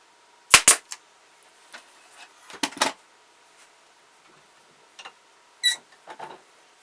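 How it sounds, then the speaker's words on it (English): A brad nail being tapped slowly into wood while carving a wooden ventriloquist figure: sharp, close hammer taps in small clusters separated by quiet pauses. "just use a brad nail and tap it in slowly"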